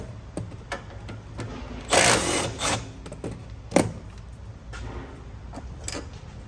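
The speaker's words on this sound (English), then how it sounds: "we want to take our 11 millimeter bolt out to remove our steering shaft from the rack" Loosening and pulling the 11 mm bolt from the steering shaft at the rack on a 2009 Chevrolet Traverse: scattered metallic ticks and clinks, with a louder burst of tool noise near the middle and a sharp clank shortly after, close by.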